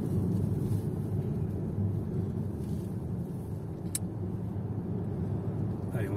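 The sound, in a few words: Mazda MX-30 car accelerating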